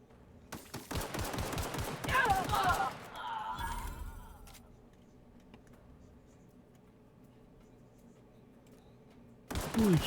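Sniper gunfire in The Outer Worlds video game: a burst of sharp, rapid shots and impacts up front, then quieter game ambience before another loud hit at the end.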